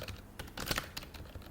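Fast typing on a computer keyboard, a quick irregular run of soft clicking keystrokes, close and fairly faint with no talking.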